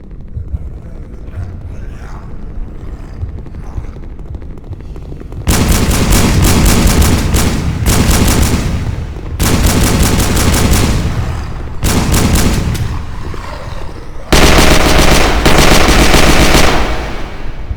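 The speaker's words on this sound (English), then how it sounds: "the pistols are just so satisfying in this game" Pistols firing rapidly in a VR zombie shooter game, loud dense volleys of gunshots in several long bursts separated by brief lulls, with the first few seconds quieter before the shooting starts.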